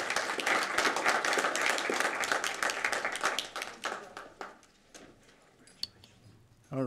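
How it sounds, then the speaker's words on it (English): An audience at a school board of education meeting gives a round of applause, a burst of clapping that thins out and fades after a few seconds, leaving a quiet room. "Give them a round of applause."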